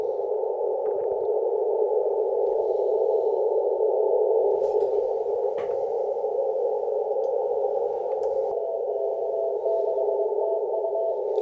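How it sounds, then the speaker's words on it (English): A radio beacon signal from Australia received on an antenna: a steady continuous tone held throughout, with faint keyed pulses and light static crackle in the background. "I'm trying to find some beacon. This was Victor Kilo, Australia."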